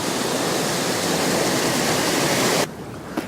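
Heavy runoff water rushes loudly and steadily through Smugglers Gulch in the Tijuana River Valley after a heavy rain, a dense close roar that cuts off abruptly near the end, leaving a quieter background.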